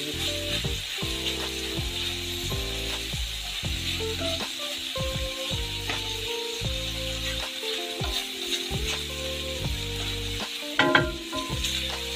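Garlic, red onion and pork belly frying in a pan, a continuous close sizzle with repeated scraping stir strokes throughout and a sharper clatter near the end.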